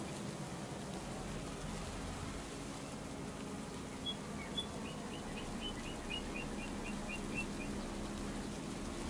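Steady rain hissing in the video game Farming Simulator 25, with a faint run of bird chirps partway through and no voices.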